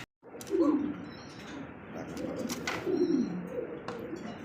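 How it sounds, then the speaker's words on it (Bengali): Several white pigeons coo in soft, repeated low bursts, fairly close, with faint chirps in the background. "এটা হচ্ছে এমন বকর বকর ডাকে ভাই"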